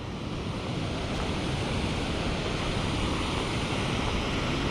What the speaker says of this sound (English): now it's going over the falls pretty good